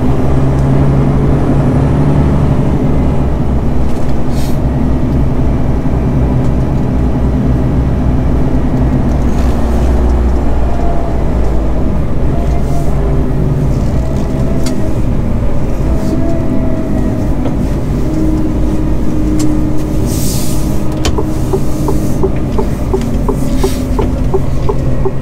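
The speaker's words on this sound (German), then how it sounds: "Doch, da fahren doch Autos." Steady traffic noise of cars and heavier vehicles rolling past on a nearby road, a continuous loud rumble with passing swells and no talk.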